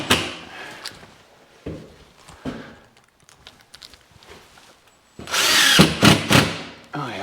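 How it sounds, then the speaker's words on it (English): A cordless Milwaukee drywall screw gun driving screws into framing over a log house, with a few short whirring bursts early on followed by a louder, longer burst of driving near the end, plus some handling noise. "I should go get my drywall screw gun."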